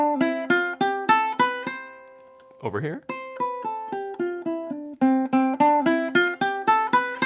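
Ukulele scale picked with the thumb for a bright, pronounced tone, a run of clear, crisp plucked notes. A short spoken phrase breaks in midway, and then the notes continue.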